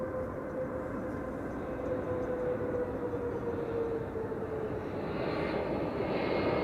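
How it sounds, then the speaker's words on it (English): KLM airliner arriving at Amsterdam Schiphol Airport, a loud, continuous jet engine roar with a steady whine that slowly drifts in pitch as the aircraft passes. "KLM flight 1762 arrived from Bremen"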